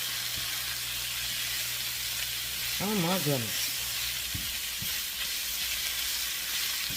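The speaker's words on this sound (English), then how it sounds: "listen to that sizzle." Steady sizzling from two pounds of diced chicken in a hot pan, with a brief exclaiming voice midway over the frying.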